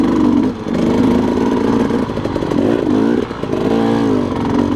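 A dirt bike engine labouring on a single track trail in Rampart Range, Colorado, loud and close, a rough mid-pitched drone that dips and surges as the throttle changes, with no speech.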